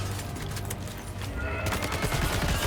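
Assault rifle fire in Death Stranding 2, a dense fusillade of rapid shots running continuously across the moment, loud and close, layered over busy game sound.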